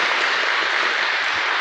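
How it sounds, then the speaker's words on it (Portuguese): A church congregation applauds, a dense, loud burst of many hands clapping at once, sustained evenly across the whole short stretch with no talking. "então a eles uma bonita salva de palmas"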